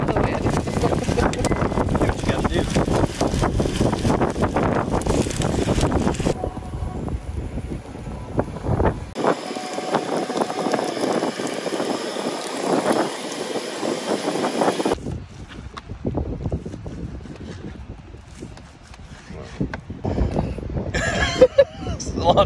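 Wind gusting at a beach campsite on Padre Island, buffeting the microphone in loud rushing bursts that drop away to a brief lull before returning, with people talking throughout.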